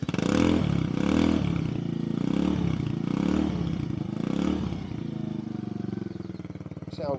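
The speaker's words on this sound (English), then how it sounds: "This is this scorpion exhaust." 2016 Peugeot Django 125cc scooter fitted with a Scorpion aftermarket exhaust, idling and revving close by with a rough, pulsing low burble that swells and dips several times, then settles near the end as a voice begins.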